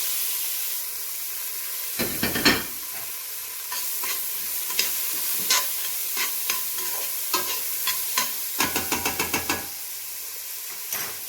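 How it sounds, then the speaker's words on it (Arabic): Chopped onion and leek frying in melted butter and oil, a steady close sizzle with repeated sharp scraping and stirring knocks against the pan and no talking. "سخنات ليا الزيت ودابت الزبده، غادي نضيف عليها البصله مع البوارو"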